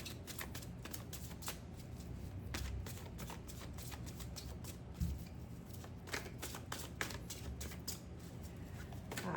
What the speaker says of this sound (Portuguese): Eu vou botar ele no baralho, vou dar mais uma embaralhada e vou cortar